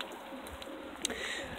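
Pigeons in a modest backyard loft give soft, low cooing that rises and falls over steady faint background noise, with a brief sharp flutter or click partway through.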